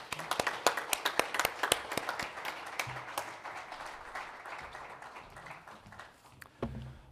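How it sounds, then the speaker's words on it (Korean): Scattered individual claps open the sound, then an audience at a church leadership installation ceremony fills in with sustained, moderately distant applause that tapers off. "한번 격려의 박수, 축하의 박수 주심으로 축사를 마치도록 하겠습니다."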